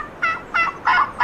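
A wild turkey in a turkey hunting video game gobbles three times in quick succession, each call a bright, rattling burst with short gaps between, fairly close and clear with no voices over it.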